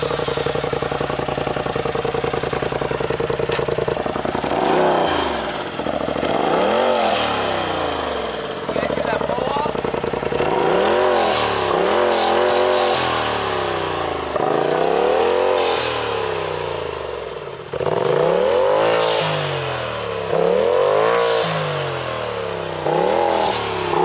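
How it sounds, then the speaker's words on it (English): A Polaris RZR Turbo S with an Agency Power turbo straight-pipe exhaust starts up and revs repeatedly, with loud rising and falling engine sweeps over an idle, close by, while a voice talks intermittently. "It's the Agency Power exhaust, and I'm gonna start with the Polaris right now so you guys can hear it."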